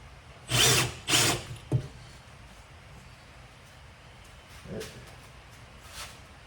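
Engine piston rings being hand-filed to fit during a motor rebuild: two or three close rasping strokes, then a softer later scrape over a quiet background.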